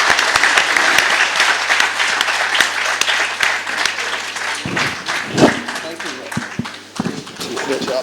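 An audience at a book launch breaks into loud, sustained applause, dense clapping close by that thins into scattered claps near the end, with voices briefly mixed in.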